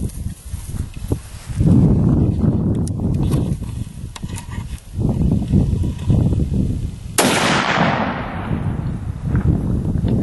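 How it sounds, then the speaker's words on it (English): A single loud rifle shot cracks out near the seventh second with a long fading echo, preceded by rustling and handling noise near the shooter standing in hay outdoors. "The bullet went out the end of the barrel"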